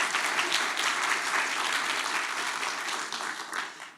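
Audience applause at a talks event, dense and sustained for the full four seconds, steady and fairly loud with no voices over it.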